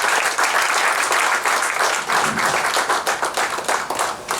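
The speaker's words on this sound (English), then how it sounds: "can we have a warm round of applause for all our four winners?" A warm, loud round of applause from the audience at an essay contest award function, dense continuous clapping from many hands that fills the whole stretch, close and steady.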